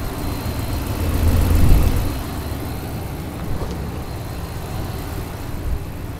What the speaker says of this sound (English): maybe it's amplifying the engine.